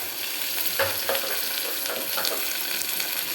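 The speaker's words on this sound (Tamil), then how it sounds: "இது நல்லா வெங்காயம் வதங்கி வரணும்." Tomato and two green chilies sizzle and fry in a pan with onions, a steady close hiss broken by a few stirring scrapes, with no talking.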